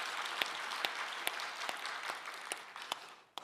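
Scattered applause from a church congregation during Sunday worship, a steady wash of clapping with a few sharper individual claps standing out, moderately faint and tapering off at the end.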